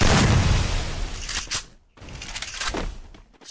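Loud bursts of gunfire and booming impacts from a shooting video game, dense at first, then a brief lull before another sustained volley.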